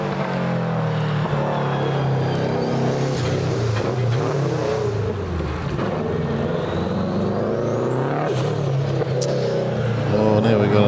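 Race cars at the Legend of the Lakes hillclimb climb the hill with engines revving hard through gear changes, a loud rising and falling roar throughout, with a commentator's voice talking over the engine noise.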